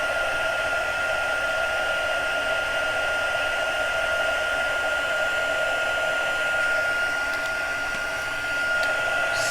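A heat gun blows hot air onto a piece being heated for gilding, a steady, loud, even whoosh with a constant high whine, running alone without a break.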